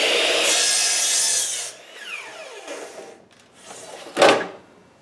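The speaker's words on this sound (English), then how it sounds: "After taking one of the 8-foot pieces of lumber, locate dead center. And we're going to cut this at 30 degrees." Eight-foot length of lumber being cut at a 30-degree angle with a hand tool: a long, steady rasping stroke, then quieter scraping and a sharp close knock near the end, with no voices.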